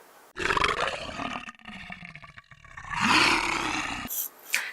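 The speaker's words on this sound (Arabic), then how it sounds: "نمر نمر." A tiger's loud roar, in two long rumbling bursts with a brief growl at the end, up close and with no talking, part of an Egyptian Arabic children's song about animals.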